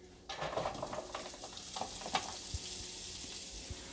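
Onions sizzle steadily in hot oil, a bright crackling hiss with a few soft clinks and stirring sounds, close by and without talk.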